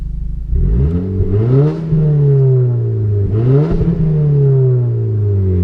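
A turbocharged Audi A4 with a K04 turbo, methanol injection and 330 wheel horsepower revs up twice in quick succession, harmonics rising and falling, with a loud, steady exhaust drone between blips.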